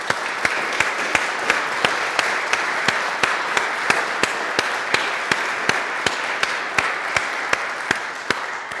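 Applause from an audience for a group of candidates at a gathering in a church hall, a steady wash of clapping punctuated by one loud, evenly spaced clap near the microphone about twice per second, no talk over it.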